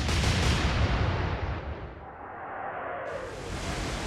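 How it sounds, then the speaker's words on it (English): A warship's naval gun salvo in the naval combat game Atlantic Fleet, a heavy booming roar that fills the clip and rumbles on into a long fading tail, loud and continuous, with no talking. "Opening salvo."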